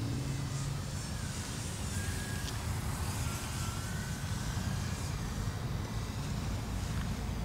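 A steady, buzzing engine drone of an E-flite Air Tractor RC model airplane in flight, mixed with rumbling wind noise on the microphone, continuous throughout.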